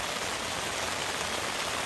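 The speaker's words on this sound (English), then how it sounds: "Rain's coming." Steady rain patters densely on a tent nearby at a riverside campsite, a continuous hiss of drops with no breaks or voices.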